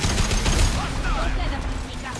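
Dense, rapid gunfire from a strafing attack in Mass Effect 2, a steady rattle of shots filling the whole stretch with voices faintly mixed in.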